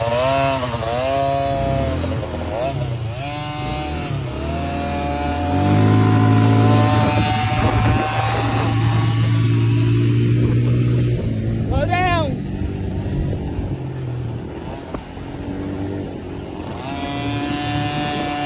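Small KTM 50 SX dirt bike engine revving up and down in a buzzy, rising-and-falling whine, close and loud, with a person talking over it outdoors.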